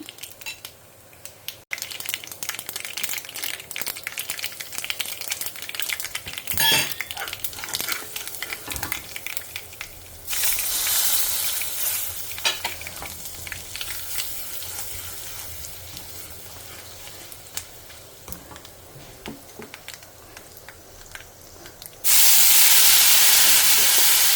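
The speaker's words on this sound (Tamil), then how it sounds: "ஸோ இப்போ நான் கடுகு, உளுத்தம்பருப்பை போட்டுக்கிறேன்" Black mustard seeds and urad dal lentils sizzle and crackle in hot oil, with stirring clatter and a steady hiss that grows louder toward the end.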